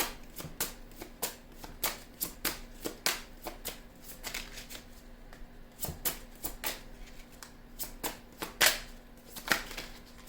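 Tarot cards shuffled by hand in a steady run of crisp riffling bursts and snaps, close and clear, with no talking.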